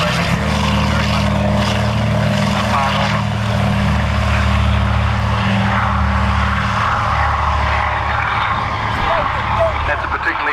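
Loud, droning propeller aircraft engines at the Matamata Airfield air show, a sustained deep throbbing roar that stays strong and near from start to finish.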